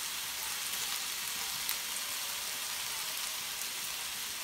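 Vegetables and aromatics for chicken tikka masala sizzle steadily in a hot pan, a continuous close crackling hiss with no talk over it.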